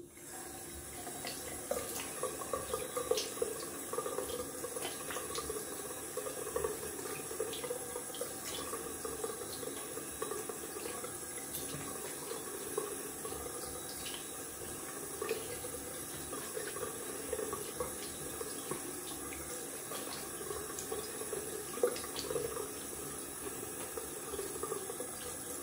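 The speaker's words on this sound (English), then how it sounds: "We will clean off with some cold water." Cold water runs steadily from a bathroom tap into a sink as a face is rinsed after a wet shave, a close, even hiss with light splashing and no talking.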